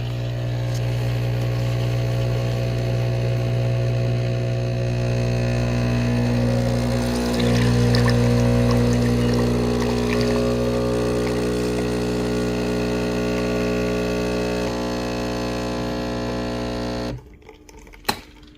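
Espresso machine pulling a double shot: a steady, loud pump hum with a strong low drone runs for about seventeen seconds, then cuts off abruptly, followed by a brief click.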